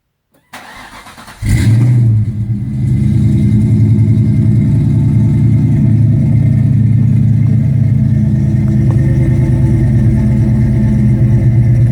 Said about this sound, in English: I got the exhaust on now. I'll go ahead and fire it up, hear how it sounds.